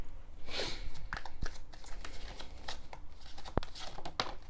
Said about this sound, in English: I've shuffled the deck. I always shuffle the cards.